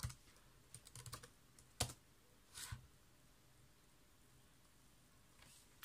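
Password entry on a computer keyboard for a Huawei E5576-606 mobile WiFi router login: a few quiet clusters of key taps and single clicks, close but faint, separated by near-silent pauses, no talking.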